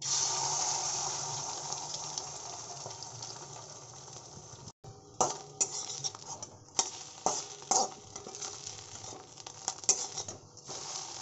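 An egg omelette cooks in a pan with a steady sizzle and patter of frying, broken by repeated scraping and tapping of a spatula against the pan.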